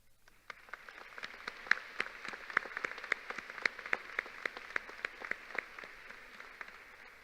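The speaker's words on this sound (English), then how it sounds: "please join me in giving a round of applause to everyone who helped you get here today" Applause at a high school graduation ceremony, sparse and distinct claps, apparently from a small group, ticking along steadily and fairly faint in a quiet room.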